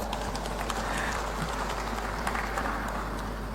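A crowd claps steadily at a governor's speech at a formal gathering in West Java, Indonesia, producing a dense, continuous wash of hand claps that holds at an even level throughout with no voices over it.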